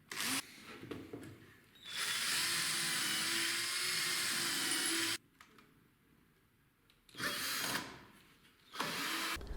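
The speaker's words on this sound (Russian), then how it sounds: "после сверлю, чтобы не расколоть брусок, и притягиваю саморезами" Power drill boring into a wooden bar ahead of screwing it down, two long loud whining bursts of the bit with a quieter pause between, then shorter runs near the end.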